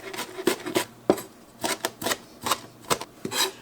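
A knife rhythmically chopping fresh herbs on a cutting board, crisp close taps in a steady series of about a dozen strokes with no talk.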